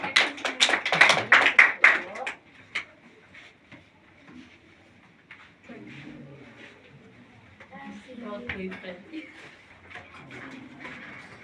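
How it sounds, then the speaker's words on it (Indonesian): Students in a classroom clap for classmates, a burst of close, quick hand claps for about two seconds that quickly fades, followed by quiet room noise and a teacher talking. "Boleh tepuk tangan buat teman-teman yang udah berprestasi"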